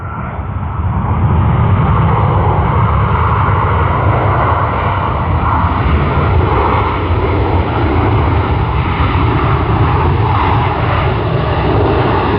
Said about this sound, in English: I love the thrust reversal sounds out there.